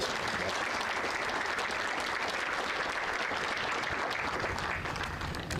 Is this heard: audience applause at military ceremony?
yes